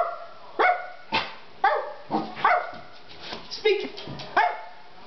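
A dog barks repeatedly on command, a series of short, loud, close yips and woofs spaced unevenly over a few seconds, with no talk over them.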